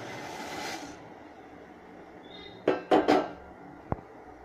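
A metal spoon scrapes and knocks against a pot as vermicelli is stirred in boiling water for semiya upma, with a quick cluster of clatters followed by a single sharp tap after a quiet stretch.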